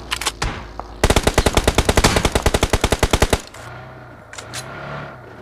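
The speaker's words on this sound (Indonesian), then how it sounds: "Tuh, mending aku tembakin." Shooting video game gunfire: a fast burst of rapid automatic shots lasting about two seconds, loud and close, with a few scattered single shots before and after.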